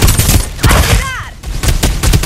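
Rapid gunfire in the Farlight 84 battle game, played on an iPad mini 6, rattles in loud close bursts, with a brief bright electronic chirp in the middle.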